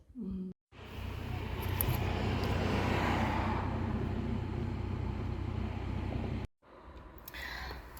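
A car drives along, its engine and road rumble forming a steady low drone that starts abruptly and cuts out near the end, with a brief quiet gap before it.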